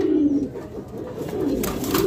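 Lakkha fantail pigeons coo close by, a low throaty warble that swells and fades, with a faint rustle near the end.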